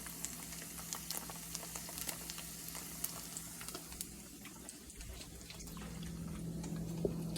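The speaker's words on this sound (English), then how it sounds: "So I'll show you about the speed of frying." Steady, dense sizzle of cornmeal mush frying in hot grease, with crackling pops throughout and a low hum underneath; no talking.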